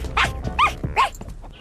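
A cartoon dog barks three times in quick, evenly spaced yaps, close and clear with no other sound around it.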